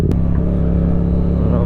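A motorcycle engine revs loud and steady up close as the rider lifts the front wheel in a clutch-up wheelie, with a brief sharp knock at the start.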